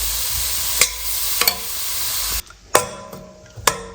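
Chopped vegetables for veg momo filling sauté in a hot pan: a loud, steady sizzle for over two seconds, then sharp utensil scrapes and clacks against the pan as the frying noise drops away; no talking.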